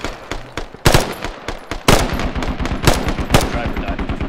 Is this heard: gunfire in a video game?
yes